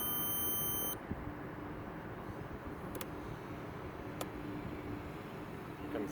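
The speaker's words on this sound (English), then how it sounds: "That's my timer." A timer beeps in a steady, high, multi-toned tone for about a second, then stops, leaving loud broadband outdoor noise from flying an E-flite AT-6 1.5m RC plane, with a couple of brief faint ticks afterward.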